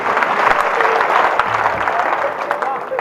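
An audience at a Hindi comedy poetry gathering (kavi sammelan) breaks into loud, sustained applause: many hands clapping at once in a dense, continuous wash, with some crowd noise mixed in.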